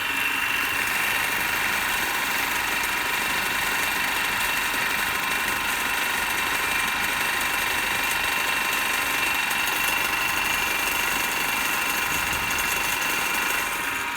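A DC motor in an electrical machines lab runs at 212 volts, about 1458 RPM, giving a constant, loud whirring hum with a bright high whine and no variation across the whole stretch.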